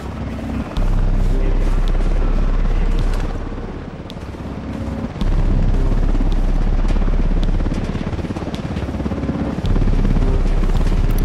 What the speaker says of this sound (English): Yo, Chopper's approaching near the helipad.